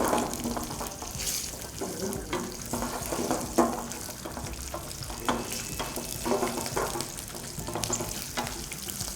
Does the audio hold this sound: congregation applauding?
no